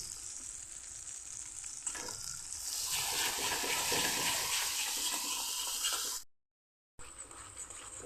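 Spice paste with turmeric frying in oil for a pointed gourd dish, a soft sizzle that swells into a louder, dense crackling hiss, then cuts out briefly before resuming.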